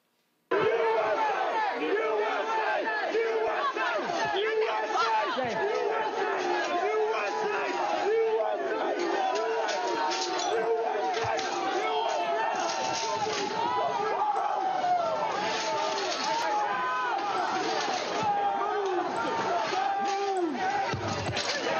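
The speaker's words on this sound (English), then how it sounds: "Officer Edwards, can you describe the crowd that had assembled at the Peace Circle as you and your fellow officers stood behind and guarded the bike racks at the Peace Circle?" Large angry crowd pressing against a police bike-rack barricade at the Capitol Peace Circle, a dense continuous roar of shouting and chanting voices that stays loud and close throughout.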